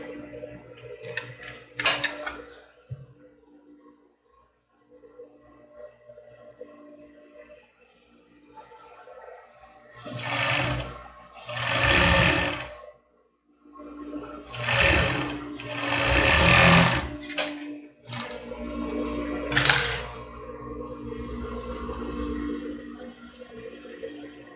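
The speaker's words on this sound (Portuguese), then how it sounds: "só unir as duas pontas aqui nas costas, colocar bem certinho o bico da renda e passar a costura aqui atrás" A sewing machine stitches the back seam of a lace crop top, running in several short bursts of rapid mechanical whirring separated by quiet pauses, close by.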